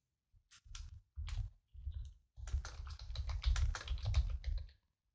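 Someone types a project name on a computer keyboard in short bursts of clicking keystrokes, a few isolated taps first and then a faster, denser run, close and clear with no talking.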